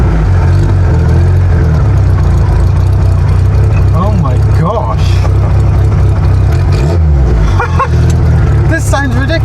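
Reliant Reaper hot rod engine running loud and rough close by, with revs rising and falling under excited talk.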